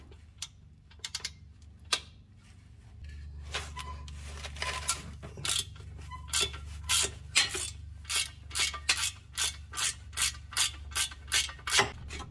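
Ratchet wrench backing out a 14 mm center bolt on the skid plate of a Nissan R50 Pathfinder or Infiniti QX4, a run of sharp repeated clicks, sparse at first and then quick, steady and close over a low hum.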